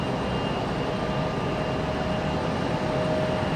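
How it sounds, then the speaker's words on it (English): Delta Airbus A220 arriving at Raleigh-Durham International Airport, a steady broadband jet roar with a faint whine, constant and fairly loud throughout. "Another Delta A220 making its way in."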